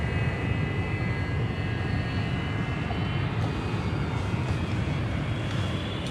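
An airplane taking off down the runway in a French film scene, its engines making a steady, loud, broad roar that holds for the whole moment, with no voices over it.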